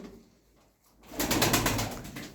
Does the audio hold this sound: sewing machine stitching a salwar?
no